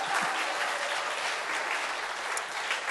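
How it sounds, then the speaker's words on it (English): Audience applause at a medal acceptance speech, a dense, even wash of clapping from a crowd in a hall, loud and steady the whole time with no voices over it. "Applause."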